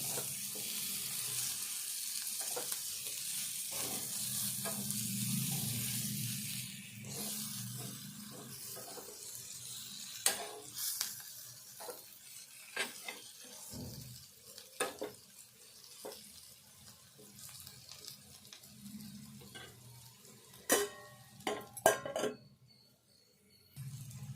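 Chicken pieces with coriander frying in a pan, a sizzle that is strong at first and then fades, with sporadic clinks and scrapes of stirring and a brief trickle of water.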